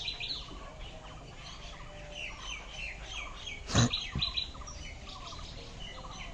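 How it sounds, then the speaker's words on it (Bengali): Several kinds of birds chirp and tweet in a mango tree covered in blossom, a busy, fairly faint chorus of overlapping calls with one brief louder thump partway through. "কত রকমের পাখির আওয়াজ শুনবে বলো।"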